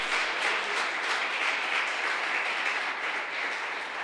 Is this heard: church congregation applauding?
yes